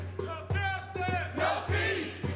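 Demonstrators rally and march in Grand Rapids, loud voices chanting and shouting in bursts close by, with a steady low hum running underneath.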